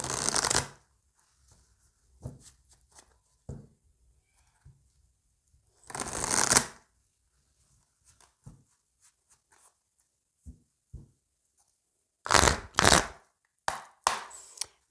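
Sacré-Cœur oracle cards are shuffled in short, crisp riffling bursts separated by quiet gaps, close and clear with no voices.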